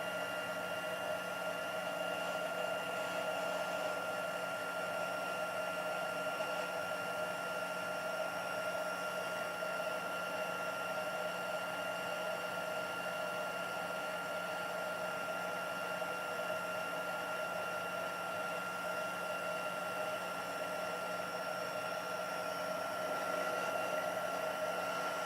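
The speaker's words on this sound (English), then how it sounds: "I have my heat tool here. I'm just going to pop it on the second setting and melt that powder." A handheld heat tool on its second setting blows steadily while melting embossing powder on a Christmas card project, a continuous, even whirring hum with a high whine that holds for the whole stretch.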